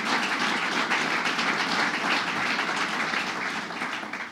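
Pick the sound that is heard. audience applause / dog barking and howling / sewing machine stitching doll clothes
audience applause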